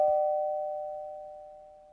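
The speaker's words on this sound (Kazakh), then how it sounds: "Ана қоңырауды басып көрші." A single electronic doorbell chime sounds once, clear and close, then its tone slowly fades away over about two seconds in an otherwise quiet space.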